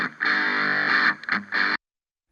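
Electric guitar captured through a Fisher-Price toy microphone, giving a harsh, distorted, band-limited tone; a sustained strummed phrase for about a second, then a brief break and a short final burst before cutting to silence.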